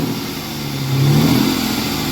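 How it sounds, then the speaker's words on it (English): A warmed-up 40th Edition Ford Mustang V8 idles roughly, then gets one short throttle blip that rises and falls back to idle, close up under the open hood, with no talking. "Let's give it a couple revs."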